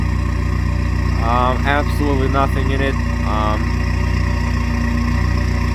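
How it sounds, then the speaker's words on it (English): A diesel car with a straight-pipe exhaust idles loudly and steadily up close, its low rumble filling the whole clip while someone talks over it. "it's actually pretty loud. For diesel, it's like I said,"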